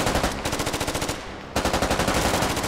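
Rapid automatic gunfire in the military shooter game Squad, two long bursts of evenly spaced loud shots with a brief gap between them, close and with no talking.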